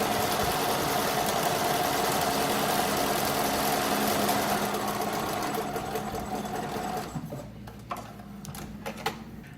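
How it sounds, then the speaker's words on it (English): A sewing machine top stitches around the edge of a garment facing with a steady, fast motor hum and needle rattle up close, then slows and stops, followed by a few light clicks. "I'm just going to top stitch all the way around this"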